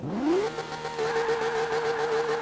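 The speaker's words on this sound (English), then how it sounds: "I'm doing a burnout and there's nothing" Car engine revving hard during a burnout in the racing game Forza Motorsport 7, climbing quickly in pitch and then holding a steady, loud, sustained high rev with no voices.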